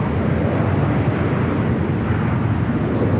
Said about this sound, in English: we do have a Dreamliner next arrival here on the north side